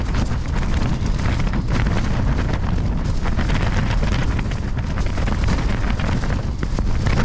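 Storm winds over 100 mph batter a broken tent at a 910 m summit camp in snow, a loud, relentless roar with flapping fabric and heavy wind buffeting the microphone throughout.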